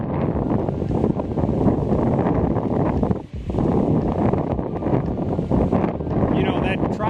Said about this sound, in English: this wind is wicked bad.